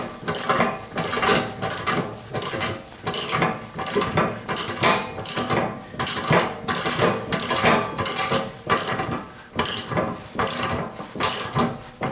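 A ratchet wrench tightens the plow mount on a 2014 Yamaha Grizzly 700 KFI ATV, making a steady run of rhythmic metallic clicks close up, stroke after stroke.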